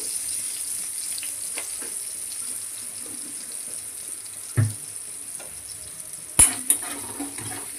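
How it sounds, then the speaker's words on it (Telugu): Onions fry with a little salt in a pan as a soft, steady sizzle, punctuated by a few sharper clinks and knocks of a utensil against the pan. "ఉల్లిపాయలు బాగా వేగడానికి కొద్దిగా సాల్ట్ వేసి"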